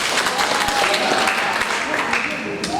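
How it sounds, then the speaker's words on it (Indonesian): A church congregation claps during a worship service, a thick, sustained roll of applause from many people filling the room, with a faint tone and some voices running beneath it. "Berikan tepuk tangan buat Tuhan Yesus."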